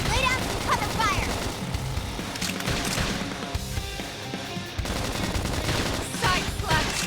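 Rapid bursts of gunfire and blasts fill a combat scene in the video game Xenoblade Chronicles X Definitive Edition, dense and continuous with music and battle voices mixed in.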